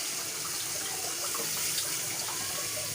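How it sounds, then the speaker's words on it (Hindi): Water poured into a cooking pot of spices and masala for dhaba-style daal, a steady close splashing stream that runs throughout with no voices. "इसमें तकरीबन 3 टेबलस्पून हमने इसमें पानी ऐड कर दिया है"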